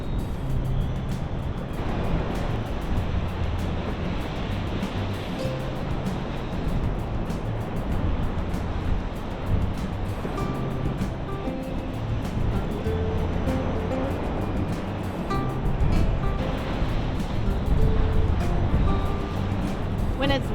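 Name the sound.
wind and surf on a Florida Panhandle beach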